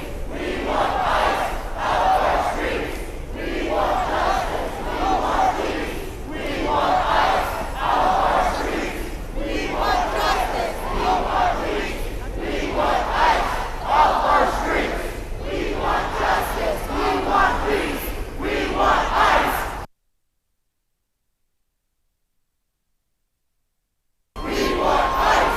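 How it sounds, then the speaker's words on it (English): Outdoor protest crowd against ICE in Kansas City, gathered before a hotel building, chanting in loud rhythmic unison with repeated surging phrases, continuous and full, before a brief cutout of silence near the end. "you can hear the crowd continuing to chant here"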